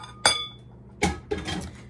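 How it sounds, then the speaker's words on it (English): A whisk clinks against a measuring cup holding vegetable oil: one sharp clink, another a moment later, then a quick cluster of lighter taps and scrapes, close and clear, with no talking. "I'm gonna use my whisk to kind of get that cleaned out."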